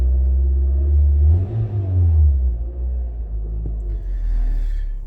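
A 2005 Scion xB engine idling after weeks unused in single-digit cold weather, a steady low rumble with slight wavering in pitch, heard close and alone.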